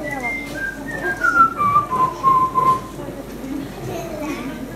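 A characteristic song melody is whistled at a tribute concert, a clear sliding tune in separate phrases with murmuring voices and crowd noise underneath.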